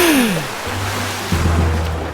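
In an animated monster-truck children's cartoon, a character topples off a high rock into the sea: a falling whistle-like tone drops into a low rush and churn of water, with a second surge of splashing.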